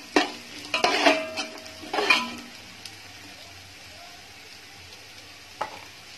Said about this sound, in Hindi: काजू को भी इसमें फ्राई कर लेना है।